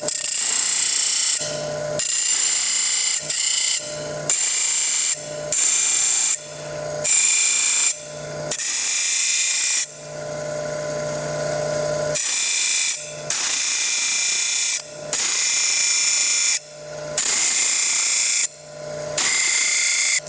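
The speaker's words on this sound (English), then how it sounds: "I put the low speed. And I started my sharpening process" Sharpening machine running at low speed while grinding a badly damaged serrated knife, producing loud, steady bursts of high abrasive hiss that stop and restart repeatedly, each pass lasting about one to two seconds over a constant motor hum.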